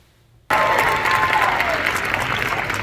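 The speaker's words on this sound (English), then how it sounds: "I've never seen a CTO get such a loud round of applause for saving your taxes." A loud round of applause from an audience bursts in abruptly after a brief quiet moment and carries on as dense, sustained clapping, with a little crowd noise and cheering underneath.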